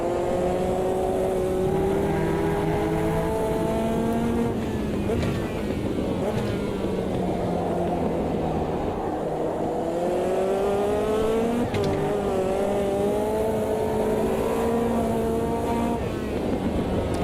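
A race car engine in the Automobilista 2 sim racing game howls and revs continuously as the car slides sideways through corners, with pitch rising and falling through shifts, loud and steady throughout.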